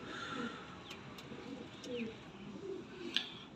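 Pigeons in Lahore coo softly, low repeated throaty calls layered over a steady background murmur, with a few faint higher chirps and clicks scattered through.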